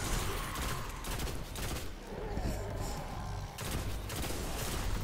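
Continuous rapid gunfire and blasts fill a boss fight in the Destiny video game, a dense, fairly loud barrage that eases briefly in the middle before surging again.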